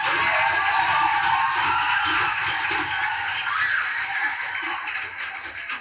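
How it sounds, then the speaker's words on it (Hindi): An audience of school students at a drama event cheers and claps in a dense, continuous wash of crowd noise that slowly fades. "जोरदार ताली बजाओ लेकिन इस वक्त"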